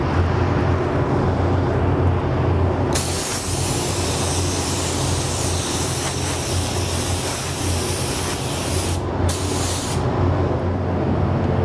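A spray gun laying a second coat of Createx metallic silver paint, loud close hissing spray that starts abruptly and runs steadily with one brief pause near the end, no voices.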